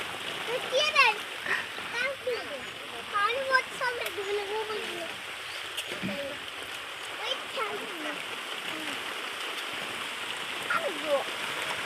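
Heavy rain pouring down steadily outdoors, a continuous hiss and splatter with people talking over it, including a voice.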